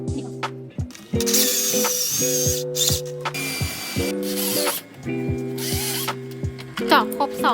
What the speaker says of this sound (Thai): ทำเครื่องหมายเอาไว้เจาะสว่านนำไปก่อน